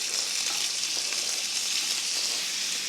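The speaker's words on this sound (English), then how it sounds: "Mexican chorizo, as it fries, it tends to wanna bind together." Crumbled Mexican chorizo, casings removed, fries in a pan with a dense, steady sizzle and hiss, close and even, with occasional faint pops and no voices.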